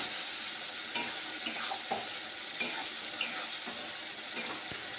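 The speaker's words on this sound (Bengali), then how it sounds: "আর দিয়ে দিলাম বিনস বিনসগুলো ভাজা হলে" Green beans fry in a pan for a rural-style chicken dish with a soft, steady sizzle, broken by light scraping clicks and knocks as they are stirred.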